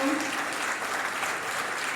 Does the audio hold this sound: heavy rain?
no